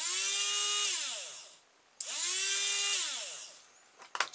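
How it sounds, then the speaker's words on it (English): Small electric motor of a remote-controlled water pump running in two bursts, each whirring up to a steady high whine and then winding down, with a brief click between. "And then press the remote, we should hear the motor."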